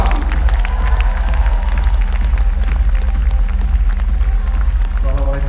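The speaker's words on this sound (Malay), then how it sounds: "Berikan tepukan untuk Maya Karim dan Samarul Hisham." Cheering and clapping rise from a large crowd at the 2015 Anugerah Skrin awards show, mixed with loud rhythmic music that has a heavy, driving beat, all close and steady throughout.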